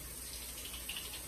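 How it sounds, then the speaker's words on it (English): Water runs steadily from a tap somewhere in the background, a faint, continuous hiss with no voices over it. "you're gonna hear water in the background"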